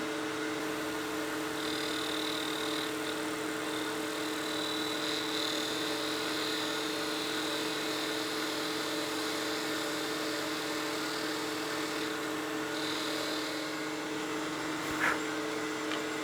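A wood lathe spins a small spinning top while a spindle gouge takes a light cut on the stem; a steady motor hum runs throughout, with faint higher scraping swells of the tool on the wood.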